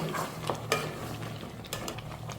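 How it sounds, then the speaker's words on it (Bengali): Goat head curry stirred in a pot, a steady scraping and bubbling sizzle with a few sharper spoon knocks against the pot sides, close and continuous throughout. "এখন আমি একটু নাড়াচাড়া করতে থাকবো।"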